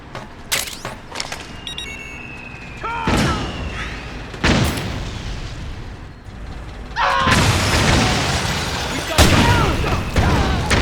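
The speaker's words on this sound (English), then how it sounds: "Okay, time to blow the power station." Explosions and heavy gunfire from the video game Metal Gear Solid 4 during an attack to blow up a power station, with several sharp booming blasts followed by rumbling and battle noise, while voices shout underneath.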